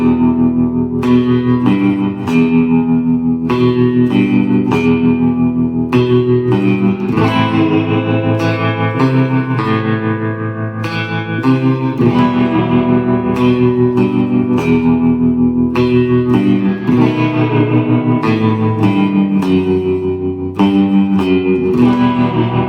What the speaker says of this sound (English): So it's basically, really shaky and reverby, with the tremolo and reverb effects.